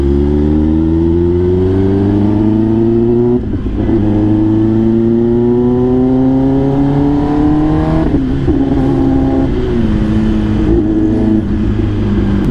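Kawasaki ZX10R superbike fitted with an Arrow full-system exhaust revving hard and loud, the engine note climbing through repeated rising sweeps with brief dips between pulls, close and continuous.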